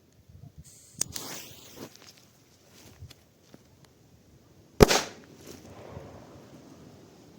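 One loud, sharp bang from a Dum Bum Micro firecracker goes off outdoors, followed by a short crackling decay, with quieter rustles and a small snap earlier.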